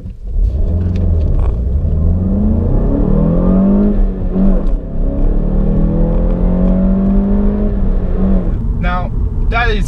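Manual VW Golf 7 GTI accelerating hard toward 60 mph in second gear, a loud, sustained engine roar rising steadily in pitch with a gear change partway through, heard from inside the car.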